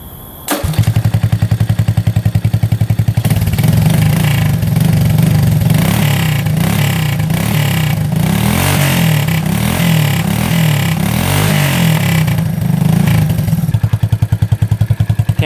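A three-wheeler's engine starts and runs loud and close, with steady low idle chugging and rising, falling revs through the middle before settling back to idle.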